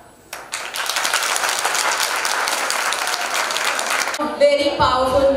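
A school annual exhibition audience bursts into steady, dense applause after a stage performance, sustained for several seconds before giving way to a voice.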